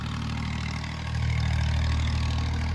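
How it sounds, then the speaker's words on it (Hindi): A tractor engine plowing a field drones steadily with a deep low rumble, swelling slightly louder midway, no voices. "वहाँ पर हल चला रहे हैं ट्रैक्टर"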